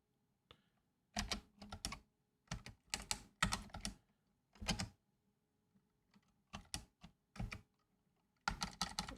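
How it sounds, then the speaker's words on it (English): Close bursts of clattering computer keyboard typing come in uneven clusters separated by short quiet pauses, with no talking. "I'm not sure what I was typing"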